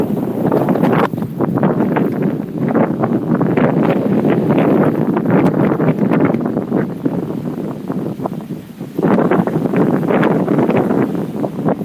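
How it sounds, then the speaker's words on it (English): Strong wind from Hurricane Francine roars steadily at Lake Pontchartrain, buffeting the microphone with loud, continuous rushing, briefly easing near the end before surging again. "It's because the wind is blowing."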